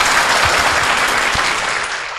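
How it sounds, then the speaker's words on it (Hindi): Loud, sustained applause from a seminar audience fills the whole stretch, dense and continuous with a few sharper claps standing out, easing slightly toward the end. "और बजाओ ताली जोर जोर से।"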